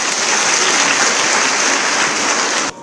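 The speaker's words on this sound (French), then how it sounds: "Je vous demande de les applaudir" Loud, dense applause from a crowd at a graduation ceremony in Mali, steady clapping throughout that cuts off abruptly near the end.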